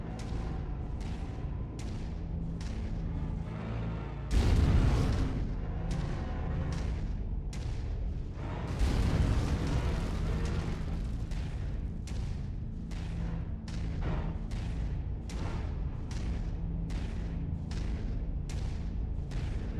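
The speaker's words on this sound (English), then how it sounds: "I love heavy rifles. They're so much fun and they sound very brutal." Heavy rifles firing from mechs in MechWarrior 5 Mercenaries: a steady train of sharp, regularly spaced cracks, roughly one per second, with two heavier booming impacts rolling out midway.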